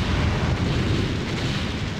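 Cannon fire pounds at walls in the strategy game Anno 1602, a dense continuous rumble of booms with no clear gaps, loud and steady throughout.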